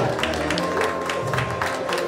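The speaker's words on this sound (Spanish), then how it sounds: "¡Un aplauso para el jovencito!" Crowd applause at a quinceañera celebration, a dense continuous wash of many hands clapping, fairly loud and steady throughout with faint voices mixed in.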